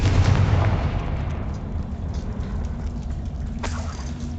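A Confringo fire spell explodes in Hogwarts Legacy: a heavy, booming blast with a rumbling low tail that fades, then a sharper second burst near the end, loud and close with no speech.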